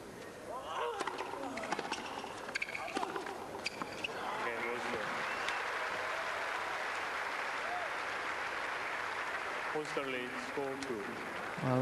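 A tennis crowd applauds Thomas Muster, clapping swelling into a sustained, dense ovation through the middle, while someone commentator talks over its start and end.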